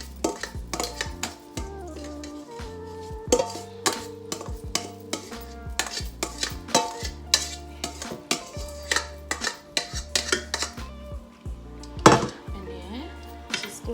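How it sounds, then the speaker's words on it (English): Shredded chicken taco meat stirred through salsa juices in a crock pot, with repeated spoon scrapes and knocks against the pot in an uneven rhythm, loud and close. "Going to mix it all up in those juices, get it all nice and coated in that salsa mixture"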